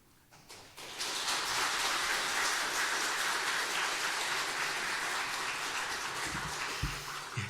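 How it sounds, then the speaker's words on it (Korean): Warm applause from a church congregation welcoming a guest preacher, starting after a brief quiet moment and swelling into dense, steady clapping that holds to the end. "뜨겁게 박수로 환영해 주시기를 바랍니다"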